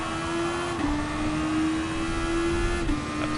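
A Super Formula race car in a racing video game at Barcelona holds a steady high engine drone, with brief pitch dips as it shifts gears, constant and close throughout.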